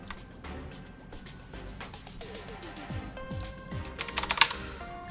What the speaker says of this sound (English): We'll hit 0 on our keyboard